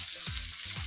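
Ingredients for pancit bihon sauté in a hot pan with a steady, close hiss of frying and faint stirring scrapes, alone without talk.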